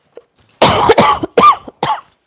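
Woman coughs several times in a short, harsh burst sequence, close and loud, with a faint throat sound before and brief pauses between coughs.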